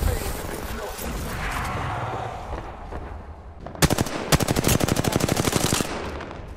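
Gunfire from the Apex Legends video game plays during a ranked match. Rapid automatic bursts come in loud, dense volleys in the second half, after a stretch of rumbling game ambience, and a player talks at times.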